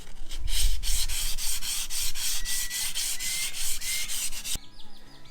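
Steady rhythmic scraping of sandpaper rubbed back and forth by hand over a beveled terrazzo tabletop edge, close and loud, with regular strokes for several seconds before stopping.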